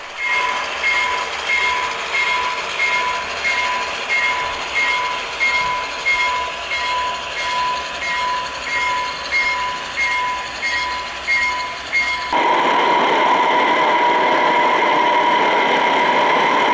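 An ore train with locomotive 7825 pulls empty wagons away from the far end of a mine rail yard, wheels clacking in a steady rhythmic beat with a sustained tonal squeal, then a shift to a steadier rolling roar near the end.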